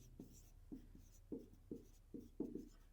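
A pen scratches across paper in quick, evenly spaced strokes, about nine short close scrapes with no talking.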